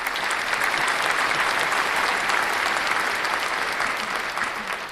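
Recorded applause sound effect played during a livestream: dense, steady clapping from a large crowd that holds at an even, loud level for about five seconds, with no voices over it.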